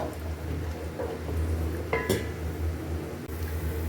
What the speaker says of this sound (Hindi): प्याज को हमने फ्राई कर लेना है।